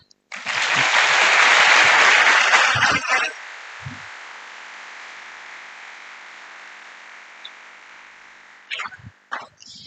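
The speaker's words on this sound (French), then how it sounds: "Chers élèves, vous pouvez vous applaudir." Secondary-school students at a ceremony in Yamoussoukro, Côte d'Ivoire, clap together in a loud, dense burst for about three seconds, then stop abruptly, leaving a quiet room hiss and a few scattered knocks near the end.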